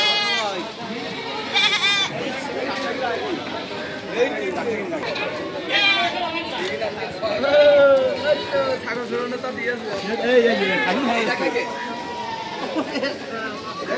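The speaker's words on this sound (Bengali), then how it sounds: "এটা হলো চট্টগ্রামের ট্রাক ভর্তি ছাগল চট্টগ্রামে যাওয়া হচ্ছে।" Several goats bleat repeatedly amid a busy crowd at a large goat market in Jhikargachha, Bangladesh, their cries rising over steady chatter and nearby voices talking.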